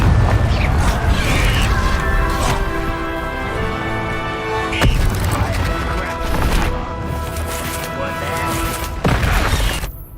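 In Hogwarts Legacy, Confringo spell blasts go off as several sharp, heavy booms spaced a few seconds apart amid busy combat noise, with a voice calling out over the fighting.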